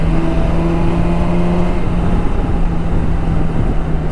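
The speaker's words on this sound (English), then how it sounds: "The exhaust is giving an altogether different feel to the ride" A Kawasaki Versys 1000 motorcycle's exhaust drones loudly and steadily while riding, a close, even engine hum blended with wind rush, with no talking.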